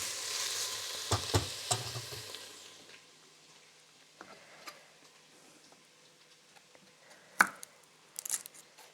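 Onion frying in butter makes a faint background sizzle, with sharp clicks and taps of stirring utensils and a few louder knocks near the end.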